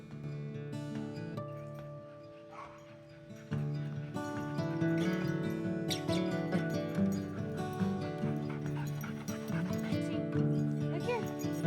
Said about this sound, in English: I head outside to play with the pups and we get some of their energy out this morning